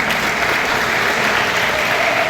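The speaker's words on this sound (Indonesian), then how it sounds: "Tepuk tangan kita" Audience applause at a gathering held at an Islamic boarding school, loud and sustained with dense, even clapping throughout.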